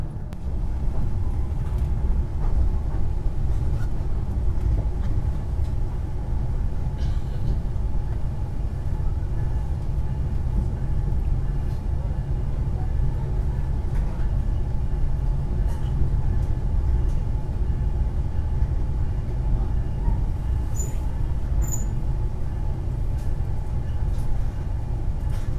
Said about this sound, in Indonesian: beberapa saat lagi kereta api Pangandaran Panorami akan tiba dan berhenti di stasiun tujuan